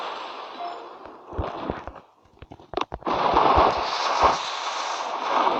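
Artillery and gunfire from a mobile strategy game, with dense bursts of explosive cracks and rattling shots, a brief lull in the middle, then a loud continuous barrage of battle noise to the end.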